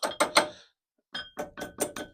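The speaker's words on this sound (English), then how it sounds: "Where's my little hammer? Little hammer." A small hammer taps on a brake caliper carrier during a disc and pad change on a Chevrolet Kalos. Three quick ringing metallic taps are followed by a pause, then four more, each close and clear, with no talking.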